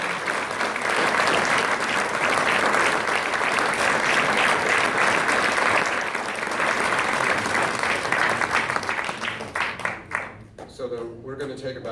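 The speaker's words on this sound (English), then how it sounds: "how about a round of applause?" Sustained, loud applause from an audience at a League of Women Voters supervisor candidate forum, dense clapping filling most of the stretch before thinning and fading near the end, with some voices mixed in.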